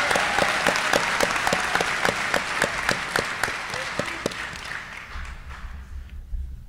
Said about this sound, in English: Just give a nice round of applause to John.